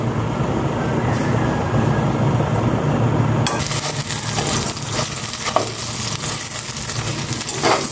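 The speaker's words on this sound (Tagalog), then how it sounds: "piniprito ko naman na siya ngayon gamit ang olive oil" Chicken hotdogs with cheese frying in olive oil, a dense continuous crackling sizzle throughout, close and loud, with a brief quieter stretch at the start before the hiss brightens; no talk.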